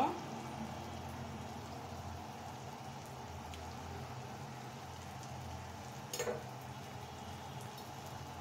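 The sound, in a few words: potatoes, tomatoes and spices being sautéed in a pan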